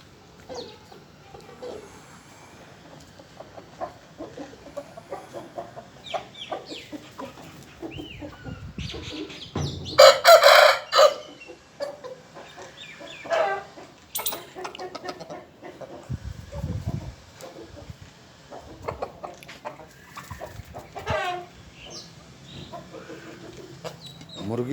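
A pair of Sindhi Aseel roosters cluck and call near and far, with one loud crowing burst midway, while people talk in the background.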